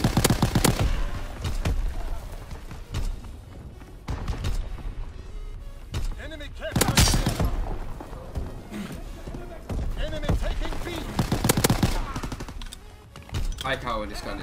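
AVS-36 rifle gunfire in a Call of Duty WW2 match, with repeated sharp bursts of shots spread through the stretch and other loud battle and game sounds close up.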